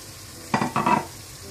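Green chillies going into browned mutton frying in oil in a pan set off two close bursts of loud sizzling and crackling, each dying away within a second, with no voices.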